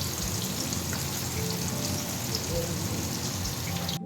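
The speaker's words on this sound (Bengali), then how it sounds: "মাছ ভাজছি।" Fish frying in a pan beside a cabbage and fish-head curry on the stove, giving a steady broadband crackle with faint soft sizzling throughout.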